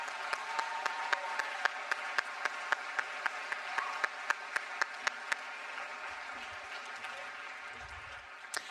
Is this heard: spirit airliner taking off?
no